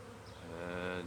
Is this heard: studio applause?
no